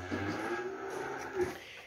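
Cattle low at a cattle market where young bulls and calves are sold, a soft, brief moo rising out of a murmur of background noise.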